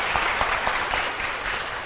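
A church congregation claps hands together at a Portuguese-language sermon, a steady dense patter of many palms with faint rhythmic accents, filling the room without pause.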